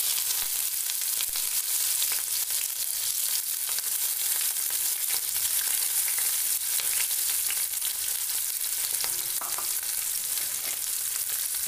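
Chopped onions frying on a high flame in a Bengali village kitchen, cooked for a chicken curry, give off a loud, steady sizzle with no pauses, and light stirring scrapes can be heard over it.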